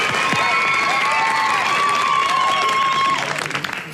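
A television studio audience on a 2003 Channel 7 show applauds and cheers, loud continuous clapping with whoops and shouts rising over it, while a tonal music sting rings through and fades near the end.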